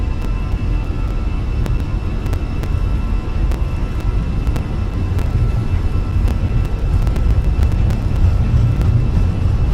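Airliner engines at takeoff thrust during the takeoff roll of a TAP flight departing Lisbon: a loud, steady broadband roar with deep rumble, continuous throughout with faint clicks and no talk.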